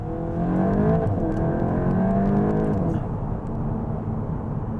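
A 2025 VW Golf GTI Clubsport accelerates hard at full throttle. Its engine rises loud and close in climbing tones, dips briefly at a gear change, then pulls again, with no talking over it.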